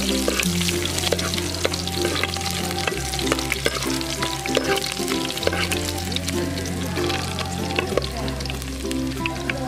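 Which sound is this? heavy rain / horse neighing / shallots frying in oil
shallots frying in oil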